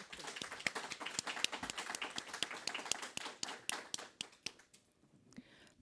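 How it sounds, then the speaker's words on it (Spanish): An audience at a poetry reading in the Congress library gives a poet a round of applause, a dense burst of close hand claps that gradually thins and fades out toward the end. "presento a la poeta Claudia Posadas, para quien les pido un fuerte aplauso, por favor."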